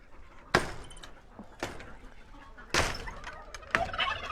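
Chickens roaming loose on a farm, giving a few sharp, spaced clucks and squawks over a low outdoor background.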